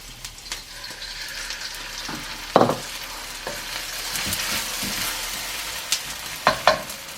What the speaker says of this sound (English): Put in the onion. Half of the egg.